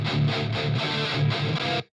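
Heavily distorted early-metalcore electric guitar through the Audio Assault Dominator amp simulator plugin, loud palm-muted chugs in a steady rhythm for nearly two seconds before cutting off, with no voice.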